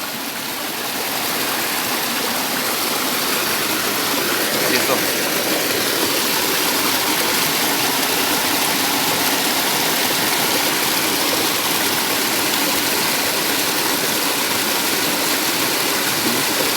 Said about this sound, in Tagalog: dito sa bagsakan ng tubig